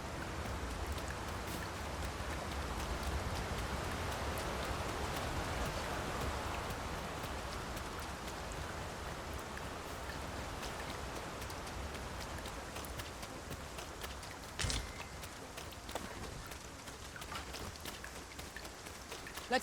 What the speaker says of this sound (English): Rain can be treacherous.